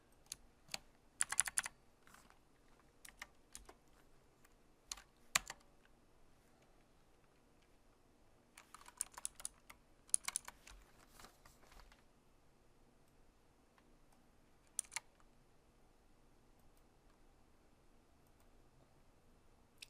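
Someone types an email on a computer keyboard, giving quiet, scattered clusters of key clicks with pauses between bursts.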